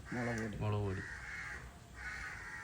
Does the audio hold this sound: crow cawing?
yes